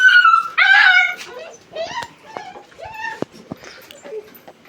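A tethered puppy whimpering and yipping close by, a string of high whines followed by short sharp yelps and softer whimpers, uneven and pleading.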